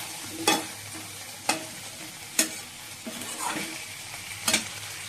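Mutton being stir-fried in a pan, with a steady low sizzle broken by roughly five sharp, regularly spaced spatula scrapes and clanks close by. No one speaks.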